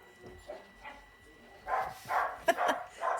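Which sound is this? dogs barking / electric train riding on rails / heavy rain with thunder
dogs barking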